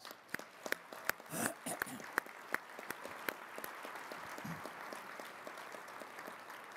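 Audience clapping fills a dinner banquet hall after a call to honor the spouses, with a steady wash of many hands and sharper individual claps that gradually thin out toward the end.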